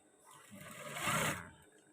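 A sewing machine stitches a trouser pocket seam in one short, soft burst that swells and fades within about two seconds, close by and alone.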